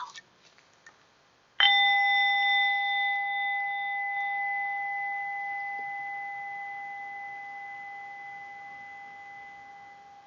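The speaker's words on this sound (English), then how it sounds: "listen to the sound of the ringing bell" During a restorative yoga practice, a single bell is struck once after a brief rustle, then rings on with a clear, steady tone that slowly fades over several seconds.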